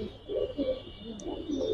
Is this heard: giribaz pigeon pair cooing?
yes